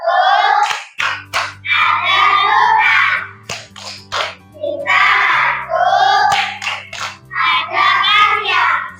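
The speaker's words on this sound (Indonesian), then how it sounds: "Tepuk sukses." A group of children in a classroom does a rhythmic success clap, with sharp patterned hand claps in quick bursts over about nine seconds while their voices chant loudly along with the beat.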